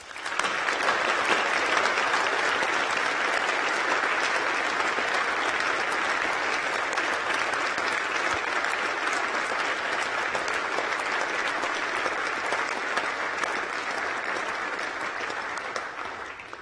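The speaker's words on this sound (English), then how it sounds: "So I ask them, along with my colleagues, to give you another round of applause." Sustained applause from a large graduation audience at a University of York ceremony, dense steady clapping that fills the hall at full strength throughout, easing only slightly near the end.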